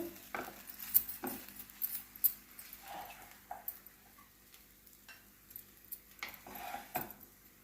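Spoon scraping and clinking against a pan and bowl as paneer fried rice is served out after the stove is switched off, a series of light close taps and scrapes.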